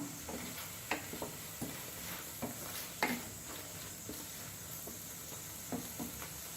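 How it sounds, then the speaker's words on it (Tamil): Garlic and ginger sautéing in a pan for paneer butter masala: a steady quiet sizzle with occasional scraping stirs close by, and no talking. "பூண்டு கொள்ளு அதையும் போட்டு வதக்கணும்"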